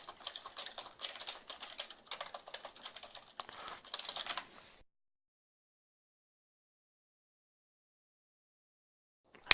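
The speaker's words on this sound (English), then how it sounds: "I can type in a description of the color library." Quick, irregular clicking of keys on a computer keyboard goes on for about five seconds, close and crisp, then stops and leaves near silence.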